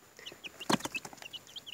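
Homestead chickens give soft, quick clucks and chirps close by, with a brief louder squawk partway through.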